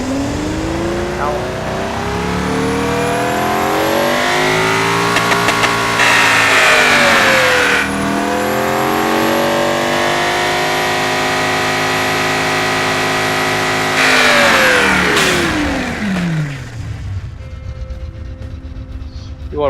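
A V12 engine in the Automation car-building game, naturally aspirated with cast headers, revs up and sweeps back down in long rising and falling wails, loud and close, with speech heard during the revving.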